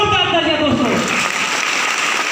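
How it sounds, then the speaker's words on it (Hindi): A crowd at a Safe Shop business meeting bursts into strong applause that builds and holds, with a voice briefly audible over the start of the clapping. "अपने लिए एक बार जोरदार तालियां दोस्तों"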